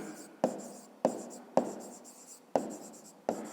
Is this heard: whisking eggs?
no